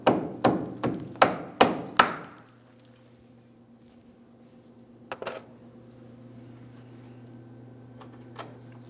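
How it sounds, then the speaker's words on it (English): Five sharp metallic hammer taps on a rear brake hose part of a GMC Sierra 2500 HD pickup strike in quick steady rhythm, followed by a quiet hum and a couple of faint clinks. "Just going to use my hammer."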